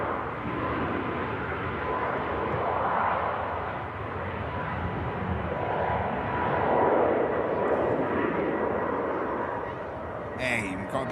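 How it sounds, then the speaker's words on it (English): Turkish Airlines Boeing 737 MAX departing for Istanbul, a broad steady jet engine roar that swells and eases over several seconds, with a voice talking over it. "the Turkish MAX is on the way out to Istanbul"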